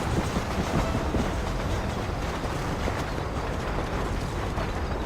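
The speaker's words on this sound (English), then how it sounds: "Definitely almost ran myself into a train." A train roars by in a dense, continuous rush of rumbling and clattering, steady throughout with no speech, in the video game Red Dead Redemption.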